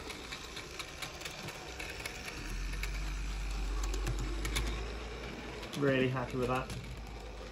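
A Bachmann Edward OO-gauge model locomotive runs on a layout with a soft, steady motor hum and light ticking, fairly quiet and close, before someone briefly speaks.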